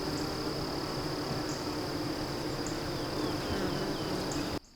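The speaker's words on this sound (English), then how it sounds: "Bees are just super fun." Steady, dense buzzing of honey bees around hives, a constant drone lasting several seconds before cutting off abruptly.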